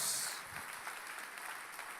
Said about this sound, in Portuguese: recebe esta palavra e aplauda o nome de Jesus.